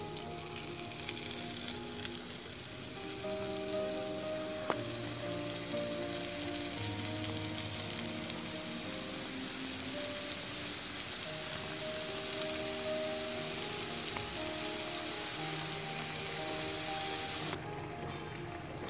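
Marble-sized Chettinad palpaniyaram dough balls fry in hot oil with a continuous, loud bubbling sizzle, steady throughout with scattered pops and a slight drop in level at the very end; no one speaks.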